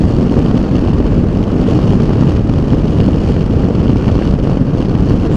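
Steady, loud wind roar buffets a rider on a Honda CB500X adventure motorcycle fitted with a screen riser, a constant broadband rush with no pauses or speech.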